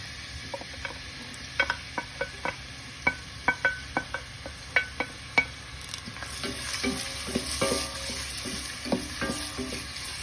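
Onions fry in a pan for a green bean dish, with a run of sharp spoon taps against the pan that gives way to a louder, rising sizzle as they are stirred.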